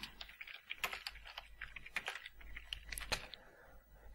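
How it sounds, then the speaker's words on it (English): A sudo password is entered on a computer keyboard: a quick burst of light, closely spaced key clicks, fairly quiet and close, with no talk over it. "kliknut ću ovdje na unlock i ukucat ću moju sudo šifru"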